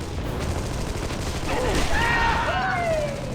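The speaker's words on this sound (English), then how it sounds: "it all starts with a frantic shootout, bullets whizzing all around" Gunfire from a frantic shootout in the 2003 action game Armed and Dangerous, a steady rattle of shots and whizzing bullets running throughout, with a few whistling tones sweeping in near the end.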